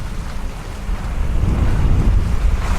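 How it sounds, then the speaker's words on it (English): Heavy ocean swell and waves off the San Juan Islands, heard while sailing, wash continuously beneath strong wind buffeting the microphone, a loud roaring rumble with no speech. "the swell out here today"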